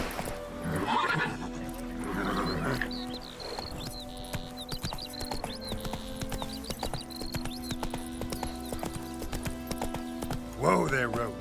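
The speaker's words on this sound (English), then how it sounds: "Whoa there, Roach" In The Witcher 3 video game, a horse whinnies and its hooves clip-clop over a game soundscape, with a person speaking early and again near the end.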